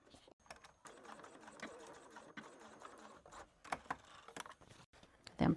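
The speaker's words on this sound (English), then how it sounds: "Lower your presser foot, and then we're going to continue along the rest of the way." Sewing machine top stitching along a fabric tube, running in short bursts of rapid mechanical stitching with brief pauses between runs, fairly close and moderately quiet.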